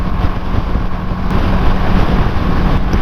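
Steady, loud roar of wind blast buffeting a rider on a BMW G310GS Rallye motorcycle at about 60, broadband rushing noise with low engine rumble throughout, no talking.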